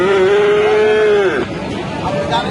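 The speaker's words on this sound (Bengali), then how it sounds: "দর্শক এটা একটা গরু" A cow at a busy cattle market in Rajshahi gives one long, steady moo lasting just over a second, close and loud above the crowd noise and nearby voices.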